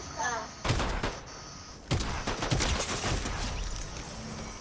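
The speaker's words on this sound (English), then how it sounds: "I just shot for no reason." Gunfire in the Fortnite video game, with sharp shots bursting in at two moments amid a busy, noisy game mix, moderately loud and close.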